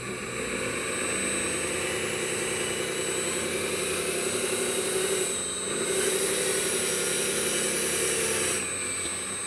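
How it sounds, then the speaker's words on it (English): RC wheel loader's electric motor and gearbox working in four-wheel drive, a steady whirring, geared drone that holds nearly constant for several seconds with a brief dip in the middle. "You can hear the gearbox actually, it's doing more work, and you can see it revving more harder."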